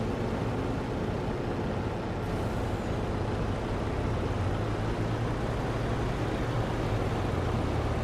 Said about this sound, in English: I gotta move my Kenworth, though